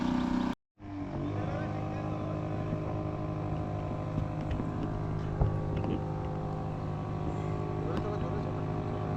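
Motorboats running steadily on a lake at a forest resort farmhouse in Jhargram, their engines giving a continuous droning hum with faint mechanical whine, close and fairly loud, with no clear talk.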